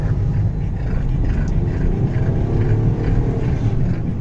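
Hyundai Xcent car engine accelerating hard in first gear, a loud, steady, low droning roar heard from inside the cabin with no break.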